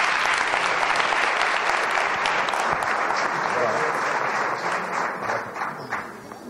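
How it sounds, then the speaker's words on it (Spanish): A live audience at a talk on values, politics and cinema gives sustained loud applause, dense and continuous, tapering off slightly toward the end. "Un fuerte aplauso para los dos."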